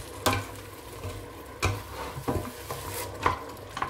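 Onions and nutmeg stirred in a pan while cooking smoked pork, a spoon scraping and knocking against the pan in irregular strokes over a soft sizzle.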